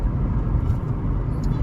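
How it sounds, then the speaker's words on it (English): A truck rumbles low and steadily in slow road traffic in Jamaica, a brief continuous engine drone with no voices over it. "it's a truck causing the traffic"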